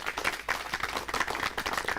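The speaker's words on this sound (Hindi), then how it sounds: "इनके लिए जोरदार तालियां बजाइए" An audience at a farmers' television program claps for the experts on stage, a short burst of fairly faint, rapid, uneven clapping with no talk over it.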